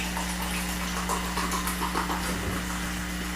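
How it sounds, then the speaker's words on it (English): Surge soda poured from the can back into a ceramic Surge mug, a steady liquid gush and fizz heard close up and continuous over a constant background hum. "let's pour it back into the surge mug to have actual surge"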